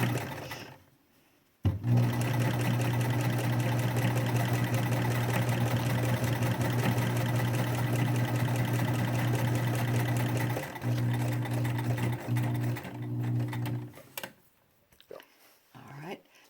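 Sewing machine stitching fabric masks starts after a short pause and runs in one steady, loud, close hum, with brief dips where it slows, then stops near the end.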